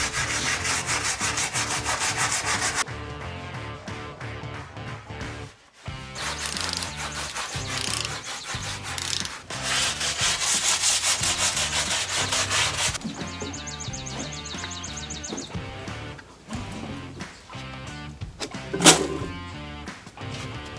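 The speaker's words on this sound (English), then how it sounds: "Good job scrubbing the brick there." A brick is scrubbed by hand in repeated rough, scratchy back-and-forth strokes, close up and fairly loud, with short pauses between bursts.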